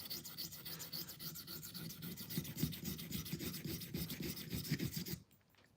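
A knife blade being sharpened on a whetstone, starting along a flat that is thinner than the rest: a steady rhythmic rasp of stroke after stroke at close range, stopping abruptly near the end, with no talking.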